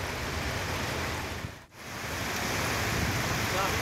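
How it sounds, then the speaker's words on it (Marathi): Heavy monsoon-season rain hisses in a dense, continuous wash in Thane district near Mumbai, with a brief dip in the middle before the steady downpour resumes. "ठाणे जिल्ह्यात सुद्धा संततधार पाऊस सुरूच आहे"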